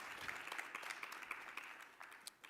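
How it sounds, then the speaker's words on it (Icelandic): An audience at a sports awards ceremony applauds, giving dense, continuous clapping that sounds faint and slightly distant and fades a little toward the end, with no talk over it. "Og gefum þeim öllum gott klapp."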